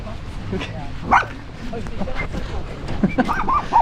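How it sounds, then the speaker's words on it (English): A small chihuahua yaps in the old town streets of Antalya, a few sharp short barks mixed into steady talk and busy street noise. "Little dog here, giving us 2 pence worth."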